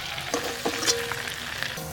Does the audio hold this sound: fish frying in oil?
yes